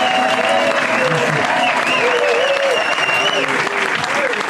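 Lively audience applause for the singer of a swing band, loud continuous clapping from a crowd that carries on throughout, with a voice speaking over it and faint tonal sounds woven underneath.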